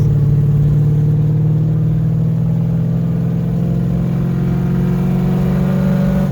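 A Ford Fairmont with a swapped Coyote V8 and a 6R80 automatic accelerates from about 47 mph, the engine holding a loud, steady drone with a smooth rising tone, close and continuous inside the car, with no talk.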